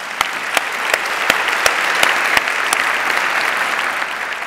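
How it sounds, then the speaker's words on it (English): Loud sustained applause from an audience at a women in business awards ceremony, honoring the nominees, with a few sharp individual claps standing out from the dense, even crowd clapping. "An applause, please, for all of them."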